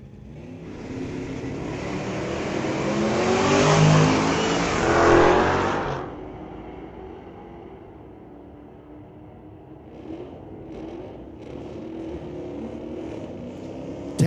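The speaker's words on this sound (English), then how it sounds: "Dodge taking on Chevy." A Dodge and a Chevy Nova drag racing at Mission Raceway Park launch with loud, rising engine roar that swells and peaks, then pulls away into distant, fading engine noise.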